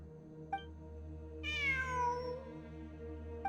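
A single clear meow from a cat in the Genshin Impact video game rises out of a steady humming background drone, with soft brief clicks at the start and end.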